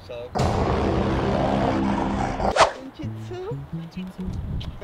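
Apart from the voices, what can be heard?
dogs barking at a park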